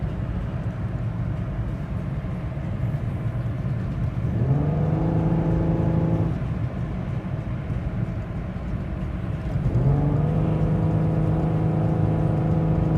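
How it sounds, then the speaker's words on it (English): Pontiac Grand Am engine with a clogged catalytic converter, floored under hard acceleration but unable to rev past about 3,000 rpm; a steady loud engine drone rises in pitch twice, around 4.5 and 9.5 seconds, with no talk. "The engine wouldn't really rev any higher than 3 grand, and the car wouldn't go above 40 miles an hour."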